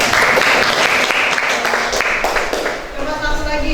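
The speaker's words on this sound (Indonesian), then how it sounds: "Tepuk tangan dulu untuk." A classroom full of students claps in a burst of brisk, close applause that lasts a few seconds, with voices mixed in as it tapers.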